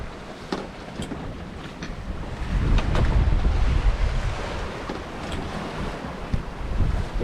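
Strong wind and heavy ocean swell at sea aboard a sailboat on a west-to-east Atlantic crossing, a loud continuous rush with surging wave noise and wind buffeting the microphone, no talking.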